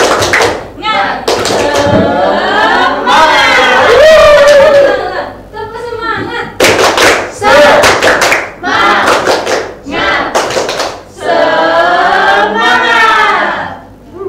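A school class claps in rhythmic bursts while chanting together in Indonesian, the clapping and shouting alternating loudly and close by.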